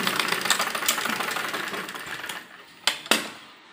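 A sewing machine stitches fabric for a toddler's jhabla dress: a steady, fast mechanical whir runs for about two and a half seconds, then stops, followed by two sharp clicks near the end. No one speaks.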